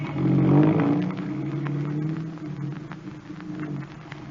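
A radio-drama sound effect of a chauffeured car pulling away, the engine rising in a short rev, then settling into a steady, fading motor hum as the vehicle drives off.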